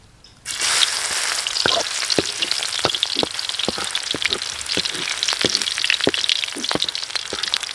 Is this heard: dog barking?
no